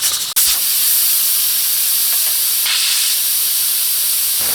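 A pressure cooker vents steam in a loud, steady hiss that runs unbroken from start to end, with one brief dip near the beginning, while chicken tinola is being cooked.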